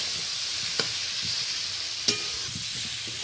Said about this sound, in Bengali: এই পর্যায়ে আমি ভেজে রাখা ওলটা মশলার সাথে ভালো করে কষিয়ে নেব।